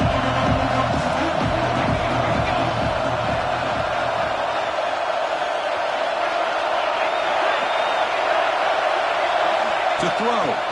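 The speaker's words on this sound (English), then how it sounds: "the crowd coming to life here, trying to help this defense down in the red zone" Stadium crowd cheering in College Football 26, a broad sustained roar of a large crowd filling the background while commentary voices talk over it.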